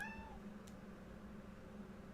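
A black-and-white tailless cat gives a single short meow at the start, faint and somewhat distant, over a low steady background hum with no talking.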